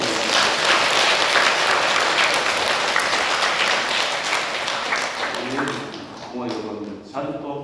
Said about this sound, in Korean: 다시 한번 격려의 박수도 한번 쳐주시기 바랍니다.